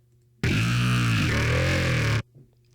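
One loud, harsh dubstep growl bass note from the NI Massive synth lasts under two seconds, its gritty tone morphing midway like a snarling wobble, then stops abruptly.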